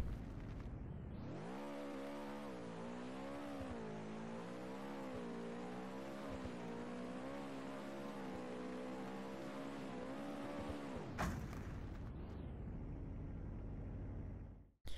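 A BMW in the Roblox game Greenville builds speed, its engine rising and falling in pitch as it revs through a long, loud acceleration before cutting off abruptly near the end.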